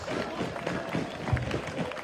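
Spectators at an Australian cycle speedway veterans world cup clap through a rider introduction, a busy, moderately loud patter with a few louder claps under light talk.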